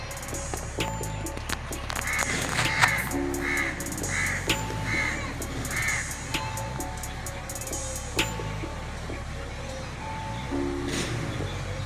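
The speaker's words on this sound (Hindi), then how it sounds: "अभी रात के बज रहे 12 और कौवों की आवाज़ आ रही थी।" Several crows caw at night in a short series of harsh calls, moderately distant, over a quiet background with faint rustling.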